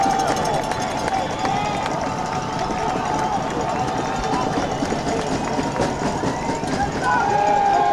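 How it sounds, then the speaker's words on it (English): A high-school football crowd at Plymouth Salem rises to its feet, a continuous roar of cheering and voices sustained loudly throughout. "Salem crowd coming to its feet."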